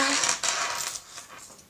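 A coin is set down for a tabletop magic trick with two drinking glasses and a card, giving a few light metallic clinks and taps close by, followed by faint rattling.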